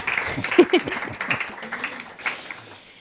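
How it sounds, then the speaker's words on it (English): A crowd applauds with scattered, overlapping claps at moderate volume, the clapping thinning out toward the end of the short burst. "Let's give a round of applause for them getting through the lightning round."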